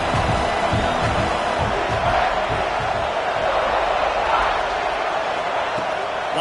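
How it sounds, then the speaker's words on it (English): Home crowd at a college football game roars steadily and loudly throughout, a dense wall of cheering with voices mixed into the din. "how nice is it to have the home crowd going absolutely bananas?"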